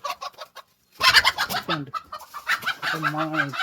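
Broody hen on a farm clucking in short repeated bursts, fairly close, with a few soft calls first, then a busier stretch of clucks and a drawn-out tonal call or two.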